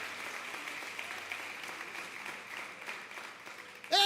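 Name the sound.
applause in a church service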